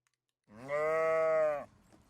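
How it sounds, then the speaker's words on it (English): A single sheep bleat, a clear sustained nasal cry lasting about a second, close and alone against near silence. "let me bring in some sheep sounds"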